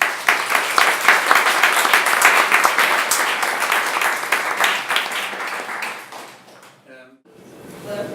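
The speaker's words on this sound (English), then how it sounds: "Big round of applause." An audience at a flash competition claps in a loud, dense round of applause that tapers off near the end, followed by a brief tonal ping and quieter room sound.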